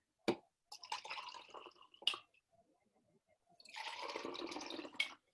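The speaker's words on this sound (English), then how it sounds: "I'm gonna fill each cup about halfway" Water poured into clear cups, each filled about halfway, in a few separate splashing, trickling bursts with brief pauses between pours, close and fairly quiet.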